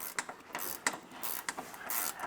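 Ratchet spanner tightening nylock nuts with big body washers onto a tent rail on a Hilux SR5, giving a string of quick, close metallic clicks in uneven bursts with no talk.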